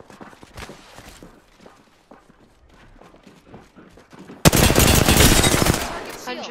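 Video-game gunfire that arrives as a sudden loud, continuous burst of rapid shots after quieter muffled game sounds and brief callouts, dominating the last two seconds.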